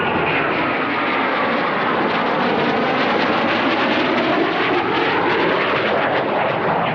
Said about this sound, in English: Eurofighter.